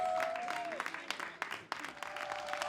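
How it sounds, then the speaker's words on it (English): Audience applause at the Kiwanis Little Bee spelling competition finals, steady mid-level clapping from a crowd that sustains throughout, with a tonal musical sound or feedback briefly audible behind it. "Let's give them a big round of applause."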